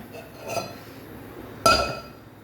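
Cooked kootu curry for a Kerala Onam sadya, made with chickpeas, raw banana and yam, is tipped into a flat vessel, giving a faint scrape and then one sharp, close clink of metal dishware with a short ring.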